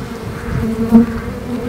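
Honeybees hum steadily inside a hive, a close, continuous buzz that swells briefly near the middle, with no voices.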